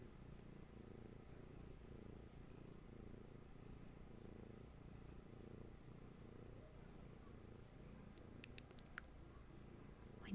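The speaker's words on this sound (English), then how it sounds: "You may hear Hattie purring." A soft, steady cat purr rumbles continuously at low volume, with a few faint clicks near the end.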